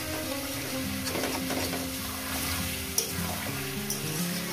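Chicken pieces for a spicy Punjabi-style chicken curry frying in a pan over high gas flame, a continuous sizzle with scraping stirs and one sharp knock, no voices.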